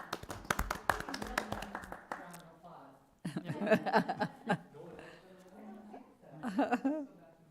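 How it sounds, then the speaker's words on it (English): Brief clapping breaks out at a parks and recreation commission meeting, a short burst of several claps near the start, followed by chuckles and close conversation among the attendees. "It was the clap for the last 3 agenda items."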